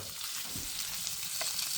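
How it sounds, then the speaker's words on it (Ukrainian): Steady crackling sizzle of food frying in a pan over a wood fire in a forest cabin, soft and continuous with occasional faint stirring scrapes. "Але воно шкварчить уже"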